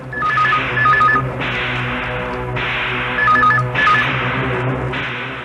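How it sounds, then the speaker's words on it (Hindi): A telephone rings loudly and close, giving repeated electronic trilling bursts in a regular on-off pattern over a low background hum, with no voices. "फोन उठा, मैं इधर से सुनता हूं।"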